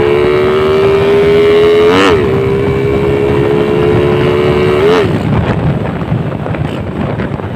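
A Honda RS125 motorcycle with a carburetor held at full throttle, a loud steady high engine drone with a couple of brief pitch dips, mixed with heavy wind rush as it rides.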